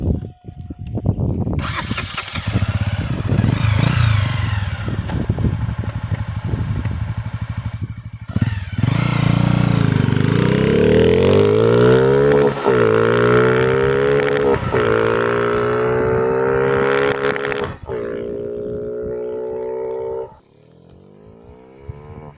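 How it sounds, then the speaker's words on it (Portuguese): A Honda CG 125 motorcycle converted to electronic fuel injection pulls away and accelerates hard through rising, climbing gears, loud and close, then eases off near the end. "pra vocês verem como é que a moto tá andando."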